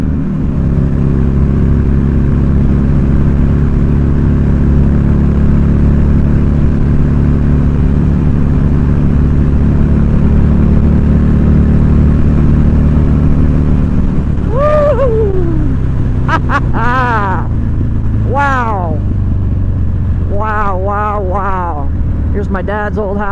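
A Buell Lightning motorcycle engine under throttle gives a steady, loud, low drone mixed with wind rush on an open road, and a voice talks over it near the end.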